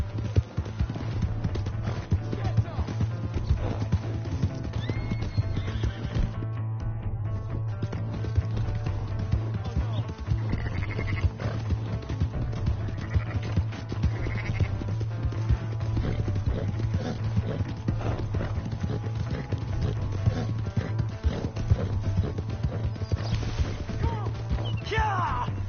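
Horse hooves gallop at a steady clip-clop in the Western video game Red Dead Redemption 2, running continuously over a low droning game soundscape.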